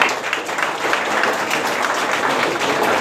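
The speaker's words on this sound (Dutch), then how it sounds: "Dus graag een groot applaus voor jezelf" Dense, steady applause from a sizeable audience fills the room at a mayor's ceremony knighting a former firefighter, loud and sustained without a break.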